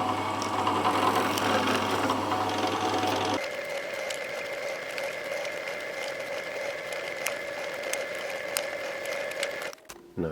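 A drill bores 2 mm pilot holes in wood, a loud steady motor whine for a few seconds before shifting to a quieter, sustained hum with faint clicks, then stopping abruptly near the end.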